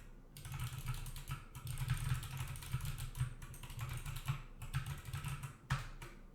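Steady typing on a computer keyboard with no shift key used, a fast stream of close, crisp key clicks over a low background hum.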